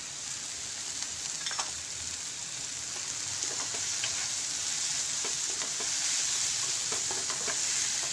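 Oregano and mixed herbs sizzle in an oiled pan while being stirred for a cheesy toast sandwich filling, a steady close hiss of frying with light scraping, and no voices.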